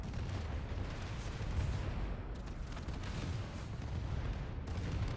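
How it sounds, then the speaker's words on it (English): Enemy forces attacking a planet in the strategy game AI War 2 produce a sustained barrage of low booming explosions and artillery-like fire, thick and unbroken for several seconds with no voices. "Explosions. Enemies are attacking our planet."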